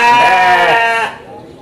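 A Garut ewe at a sheep market in Majalaya, Bandung, gives one loud, close, drawn-out bleat that cuts off abruptly, leaving faint background noise.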